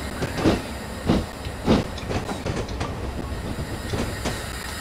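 A steam train rolls along in a Train Simulator game, a steady rail rumble with rhythmic clickety-clack pulses from the wheels, continuous and fairly close.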